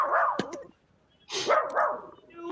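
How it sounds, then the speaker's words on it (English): A dog barks and growls in rough bursts, heard through a live call-in line on a DJ radio show, with a short pause between two rounds of barking. "my dog is growling because someone's dog is barking"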